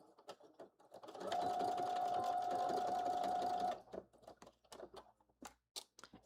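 A sewing machine runs a regular-length stitch along fanny pack webbing, one steady continuous burst of about two and a half seconds, close and loud, with quieter handling clicks and rustles before and after.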